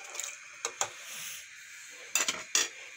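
Metal clanks and clicks as a lid is fitted onto a pressure cooker, in a few short bursts close up in a home kitchen, with no voices.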